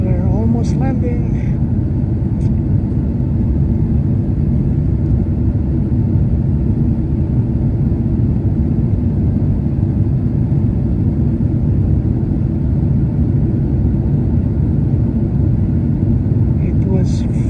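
An airliner makes its final approach and landing at NAIA in Manila, a loud steady cabin roar of engines and airflow heard from inside, unbroken throughout with a few faint clicks.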